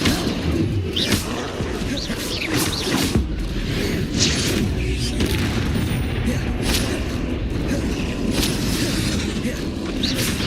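Spell-combat sound effects from the Hogwarts Legacy video game include booming fiery blasts from the Confringo spell. Repeated bursts sit over a continuous rumbling bed, and a voice calls out spells.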